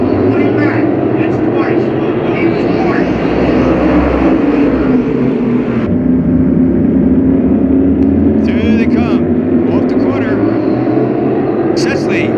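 Race cars roaring past on the Wall Stadium track during the Garden State Classic, a loud continuous engine drone that swells and shifts as the field comes through, with a commentator talking over it.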